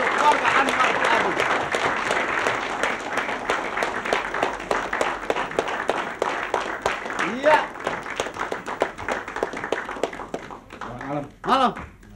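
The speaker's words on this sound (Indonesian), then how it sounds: "tepuk tangan untuk keluarga Anwar Fuadi" Studio audience claps for a husband-and-wife pair on an Indonesian TV show, steady dense applause lasting throughout with a presenter's voice over it, then a brief burst near the end.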